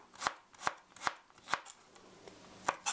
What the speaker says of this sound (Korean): 이렇게 돌려서는 그냥 얇게 썰어주기만 하면 돼요